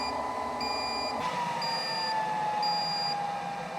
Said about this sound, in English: hear an audible beep to warn you